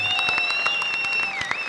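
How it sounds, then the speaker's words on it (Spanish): Studio audience applauding on a Colombian TV talk show as a mentalist walks on, steady dense clapping throughout with a sustained electronic tone running beneath it. "reciban con un aplauso al señor Ricardo Mentalista."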